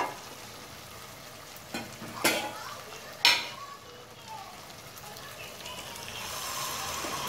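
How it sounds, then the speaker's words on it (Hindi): Chicken curry sizzles and fries in oil after the chicken and oil have separated, a steady crackling hiss broken by a few sharp scrapes and clinks of stirring. "देखिए हमारा चिकन पकने लगा है।"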